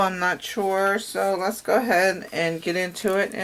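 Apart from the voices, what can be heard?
None of the usual background noises is heard.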